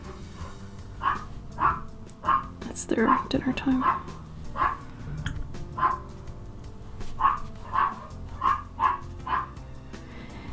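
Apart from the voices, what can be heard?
dog screaming from hunger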